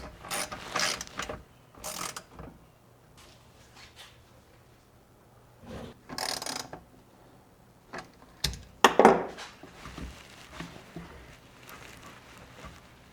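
A ratchet tightens fittings on a CTS turbo intake on an Audi A3 VR6 build: several short bursts of close, crisp clicking, separated by quiet pauses and light handling noises.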